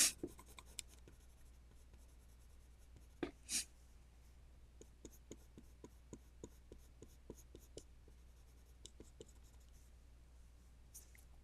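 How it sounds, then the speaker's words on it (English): Quiet mechanical pencil strokes scratch across paper in a series of short, rhythmic marks, with a few louder rustles and soft breaths in a calm room. "The mechanical pencil here is doing all the nice work."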